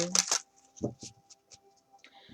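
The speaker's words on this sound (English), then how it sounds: "I like sometimes to go through the process with shuffling the deck" A deck of tarot-style oracle cards is shuffled by hand in a quiet room, with a few quick riffling bursts at the start followed by soft, scattered taps and slides.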